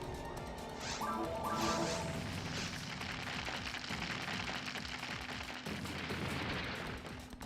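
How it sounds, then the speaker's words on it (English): Rocks crash down during the Falz boss fight in the video game Phantasy Star Online, a dense, continuous rumble of heavy impacts and crunching debris that stays loud throughout without pause. "we'll watch the rocks fall again"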